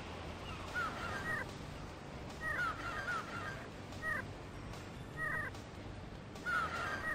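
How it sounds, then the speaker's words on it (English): Crows cawing in the video game Grandia, several short harsh caw bursts repeating at irregular intervals over a steady background ambience, moderately loud and alone without talk. "somebody shut these birds up"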